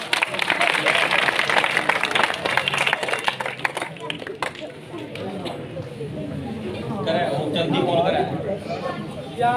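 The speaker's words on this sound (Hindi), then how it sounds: "तालियों से स्वागत कीजिए" A crowd of students and elders at a village student award ceremony in Bhagal claps to welcome a speaker to the stage, steady dense applause fading as chatter and murmuring voices take over.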